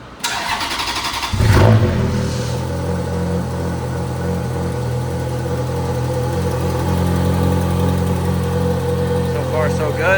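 A car engine starts with a sharp crank and catch, then settles into a steady, close, even idle that runs for several seconds after a repair, with a slight rise in revs near the end.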